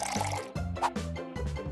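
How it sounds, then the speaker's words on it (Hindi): Water poured during a makeover video game, wet trickling and dripping splashes in several short bursts separated by brief pauses, close and fairly clear with no talk. "पानी डालें"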